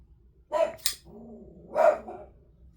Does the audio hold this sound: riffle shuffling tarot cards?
no